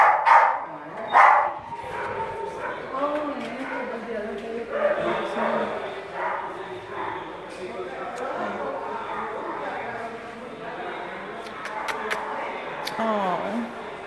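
A young shelter dog barks in short bursts indoors, with people talking over and around the yips throughout.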